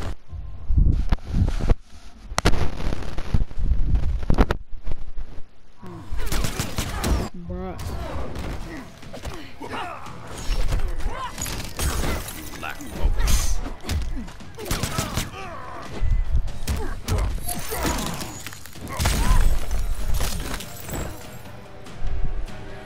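Gunshots in Mortal Kombat XL ring out as loud, repeated bursts of fire across a busy, noisy fight, with voices talking over the shooting.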